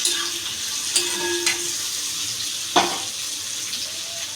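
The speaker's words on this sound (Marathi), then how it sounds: "हा कांदा आपण चांगला ब्राऊन होऊन देऊ चांगला म्हणजे असा त्याला कलर येऊन देऊ" Onions brown in a hot pan with a bright, continuous sizzle, broken by a few sharp scrapes and clacks as they are stirred.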